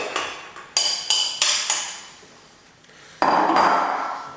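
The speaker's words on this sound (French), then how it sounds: "on va mélanger la farine" A utensil knocks against a bowl while flour is mixed with salt and baker's yeast for an olive fougasse: a handful of sharp, ringing clinks in quick succession, a pause, then a louder scraping clatter, close and without talk.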